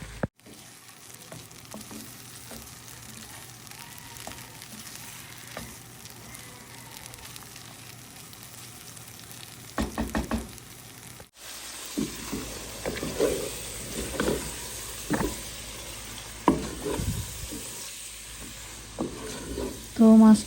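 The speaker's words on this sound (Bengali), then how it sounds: "তো মাছটা কষিয়ে নিচ্ছি" Fish sizzles while being sautéed in a pan, with a steady frying hiss through the first half, then sharper scraping and stirring clatters alongside the sizzle later on.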